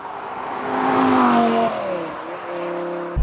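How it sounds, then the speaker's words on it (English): A Ferrari 550 Maranello engine revs up and eases off nearby while driving, its pitch climbing then dropping before settling into a steady drone. "First time out in the 550 Maranello, James's 550 Maranello."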